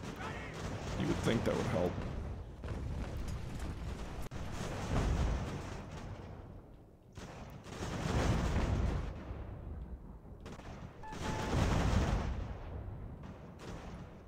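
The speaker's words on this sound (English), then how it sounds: "Are these guns still firing? They are." Booming artillery salvos from cannon, captured 6-pounder guns among them, at the Battle of Montreal in Ultimate General: American Revolution, rolling in repeated heavy waves with someone talking over them.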